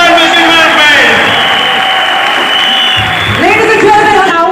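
Audience applause at an award function in Kolkata, a dense wash of clapping filling the hall, loud and sustained while a presenter speaks over it through a microphone.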